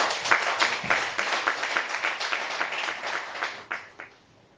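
A church congregation applauds with steady, dense clapping that stays fairly close and even, then thins out and fades away near the end.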